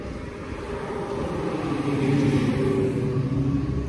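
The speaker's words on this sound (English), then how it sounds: "Here comes a dump truck." A dump truck hauling covered gravel drives past, a steady low engine rumble that swells as it comes closer and then holds.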